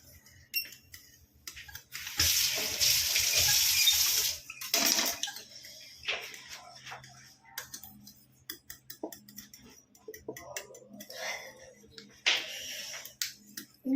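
Water pours into a cooking vessel for a quick Bengali breakfast, a rushing splash lasting a couple of seconds. Quieter knocks and clicks follow, with voices talking now and then.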